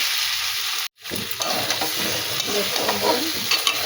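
Potatoes and kohlrabi sizzle steadily in spiced oil in a pan while being stirred, with a brief gap early on before the broad frying hiss resumes close and loud.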